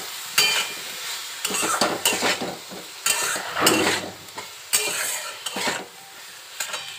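Potatoes and vegetable stalks are sautéed with ground spice paste in a pan: repeated close spatula scrapes come in bursts over a crackling fry.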